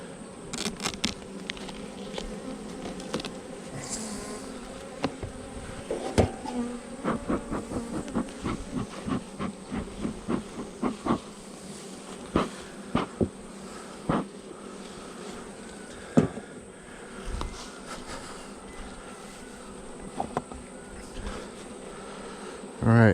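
A honeybee swarm buzzes steadily during a hive install, with a dense, close drone and individual bees zipping past the microphone in repeated brief passes.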